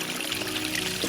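Mountain spring water runs and pours steadily on the Appalachian Trail near Wayah Bald while water bottles are filled, making a close, continuous trickling splash.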